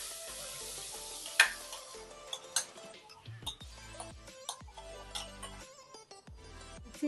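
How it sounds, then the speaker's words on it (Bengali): Mango pulp with sugar simmers in a wok, a soft sizzle with intermittent scraping and clinks of stirring, close and fairly quiet. "আর নাড়তে হবে এই জন্যই যাতে নিচে কড়াইয়ের মধ্যে লেগে না ওঠে"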